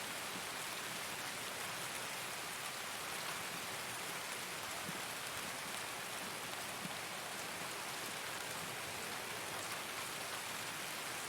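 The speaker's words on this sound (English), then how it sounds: "The rain looks horrendous." Steady rain falls in a Raid season 6 game, a constant hiss of drops on surfaces, faint and even throughout with no voices.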